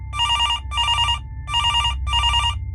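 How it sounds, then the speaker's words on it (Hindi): A telephone rings as a sound effect in a Hindi horror story: four loud, rapid bell-like trills in two pairs of bursts separated by short gaps, over a low rumbling background. "उन्होंने करण को फोन करके बता दिया"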